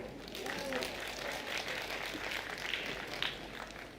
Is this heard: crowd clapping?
yes